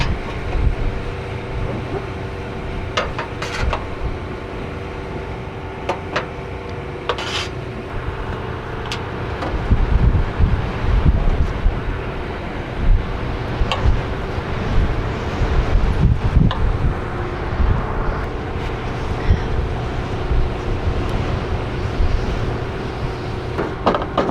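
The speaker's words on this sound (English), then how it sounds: "Oh, the wind just changed." Wind blowing outdoors in changing weather before a storm, a steady loud rushing roar buffeting the microphone throughout and growing stronger partway through, with scattered clicks and knocks.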